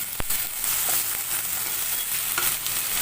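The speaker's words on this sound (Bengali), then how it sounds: "দিয়ে পেঁয়াজের সঙ্গে ভাজা ভাজা করে নেব।" Chopped onion with ginger garlic paste frying in a pan, a continuous close sizzling hiss with one sharp utensil knock near the start and faint stirring scrapes.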